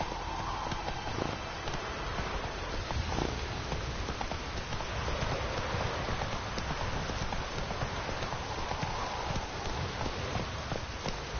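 Horse hooves clip-clop at a steady walking pace throughout a stretch of The Witcher 3, a dense continuous patter of close footfalls under ambient game sound.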